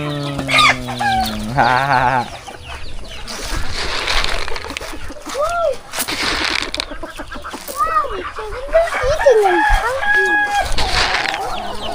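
Chickens cluck and a rooster crows loudly and close at a backyard feeding, with repeated squawks and calls and a brief human exclamation among them.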